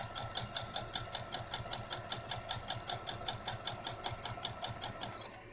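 A sewing machine stitches rag quilt strips in a steady, fast run of evenly spaced needle beats under a continuous motor hum, close and fairly loud with no talking.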